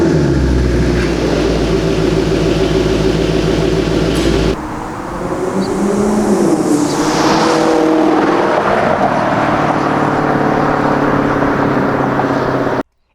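The 4.7-liter V8 engine of a 2014 Maserati GranTurismo Sport rumbles loudly up close, then revs up and down in rising and falling sweeps before settling into a steady roar.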